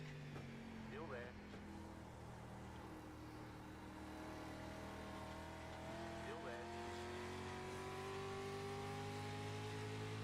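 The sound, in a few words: street stock race cars racing in the video game iRacing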